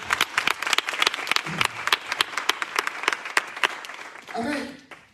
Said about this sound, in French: applaudir le Seigneur